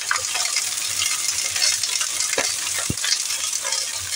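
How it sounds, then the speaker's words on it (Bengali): Okra with slit green chillies and salt is stirred in a hot frying pan, a loud constant sizzle with scraping strokes of a spatula and a couple of sharp knocks against the pan. "এবার খানিকক্ষণ ধরে এটাকে নাড়াচাড়া করব।"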